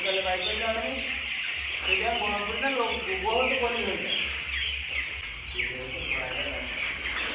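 Chickens cluck and murmur continuously while feeding, several birds close by with overlapping soft calls over a low steady hum, in a ground-floor poultry shed.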